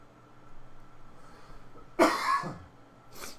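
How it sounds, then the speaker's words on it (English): A single sharp cough rings out close by after a few seconds of near silence, followed by a softer breathy exhale. "Try to wash that cough down."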